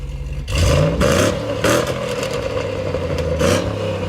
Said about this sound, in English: See if we can get a bit of a rev here. Rev it!